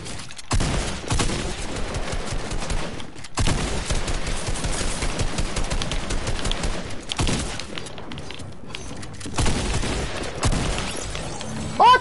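Pistol shots in a video game tournament match, firing in rapid strings of close, loud shots mixed with other combat noise, with brief pauses between bursts.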